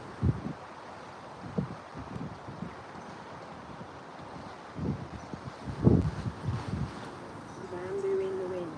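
Wind gusting outdoors during a morning qigong session, a broad rushing noise with buffeting on the microphone, rising and falling in uneven bursts, with a voice speaking faintly at times.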